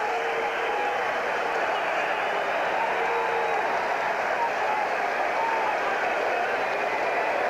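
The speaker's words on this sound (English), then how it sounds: "A big crowd on hand responding to this." A large baseball stadium crowd roars steadily with cheering and applause throughout, a dense continuous wash of noise during a game protest, with an announcer's voice faintly mixed in.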